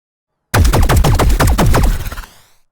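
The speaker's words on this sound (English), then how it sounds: "I have designed the gunshots in the scene in a traditional manner" Designed gunshot sound effects built in Weaponiser fire in a rapid burst of about a dozen loud, punchy shots, each with a sharp crack and boomy tail, ending in a decaying ring after silence at the start.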